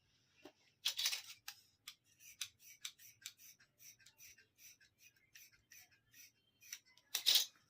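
Scissors snip through fabric for a narrow-width winter all-over suit, a close series of crisp cuts in an uneven rhythm, with louder rasping slices near the start and end; no talk.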